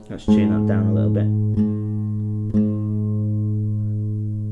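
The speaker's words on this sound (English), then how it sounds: "Let's tune that down a little bit." A single plucked acoustic guitar string rings out and sustains, struck again a couple of times as it is tuned down.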